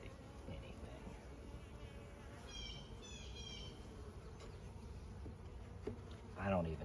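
Honey bees buzz continuously in an open hive colony, a low, close, steady drone with a few faint bird chirps over it and no talking.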